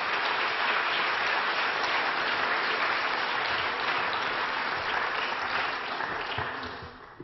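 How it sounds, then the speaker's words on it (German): An audience applauds school students from Zwettl at a youth politics event, sustained dense clapping filling a hall and tapering off near the end. "Applaus für Zwettl"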